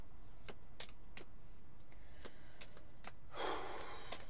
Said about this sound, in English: so now we're going to shuffle and ask for the augury, the prophecy of the Grail